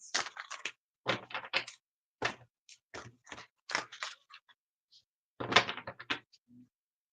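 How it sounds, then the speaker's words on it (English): Tarot cards are shuffled in short bursts of crisp, riffling clatter separated by silent pauses, close and fairly loud. "I'm shuffling all the cards back together for the air signs"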